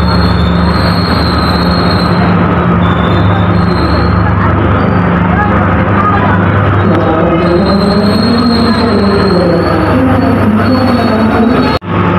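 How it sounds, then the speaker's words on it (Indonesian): Doho commuter train pulling into track 2 at Kediri station, a loud continuous rumble of wheels and carriages with a sustained high metallic squeal and background crowd chatter on the platform. "Kereta api komuter lain Doho masuk di jalur 2 stasiun Kediri."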